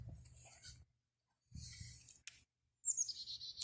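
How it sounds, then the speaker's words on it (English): High, thin bird calls outdoors on a city street, brief and faint, sound over low traffic rumble that comes and goes. "Let's see if that bird will notice us."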